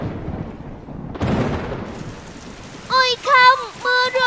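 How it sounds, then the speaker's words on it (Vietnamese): Rain starts falling at an outdoor picnic spot in a children's cartoon, a soft steady hiss that swells briefly, then a voice talks over it. "Ôi không, mưa rồi."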